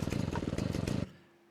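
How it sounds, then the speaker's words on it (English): A chainsaw sound effect fires up with a rapid, pulsing two-stroke sputter that runs loud for about a second, then cuts off abruptly and leaves near silence. "chainsaw start"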